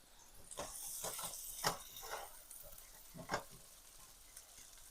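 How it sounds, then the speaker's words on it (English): Already-boiled potatoes brown and crisp in a hot pan, a faint steady sizzle broken by a few soft scraping stirs, with no voices. "these potatoes, again, are already boiled, so I'm just browning them up, crispying them up a little bit."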